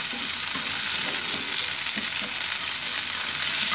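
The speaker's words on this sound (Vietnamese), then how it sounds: "Bỏ cà vô mình xào luôn nha các bạn." Chopped tomatoes stir-fry in a hot pan, a steady, loud, close sizzle with faint scraping of the stirring utensil and no talking.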